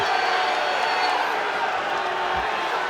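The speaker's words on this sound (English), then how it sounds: "you got to appreciate this Ohio State crowd" Ohio State home crowd at a Big Ten college wrestling match between Iowa and Ohio State at 165 lbs, a steady dense roar of voices and cheering that fills the space throughout, with no clear individual words.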